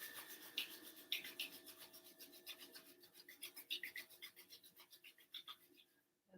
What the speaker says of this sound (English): And rubbing the hands together.